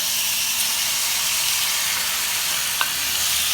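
Small chicken pieces fry in a pan for a gratin with potatoes and béchamel, giving a loud, continuous close-up sizzle with a faint utensil tap near the end and no talking.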